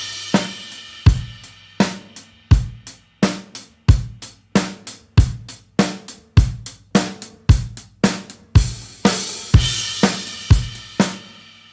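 Rock drum groove on a kit, hits of kick and snare with cymbals in a regular pattern that gradually speeds up, loud and close, no voices.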